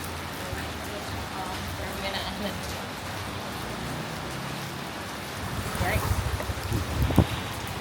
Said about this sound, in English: Stuck in a little bit of rain, unfortunately.